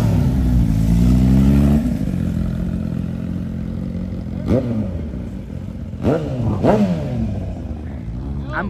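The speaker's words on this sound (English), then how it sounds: "We got motorcycles on the way." Motorcycles rev at an outdoor car meet in Seekonk, Massachusetts. A steady engine drone sits under three sharp rising-and-falling revs close by, with voices in the background.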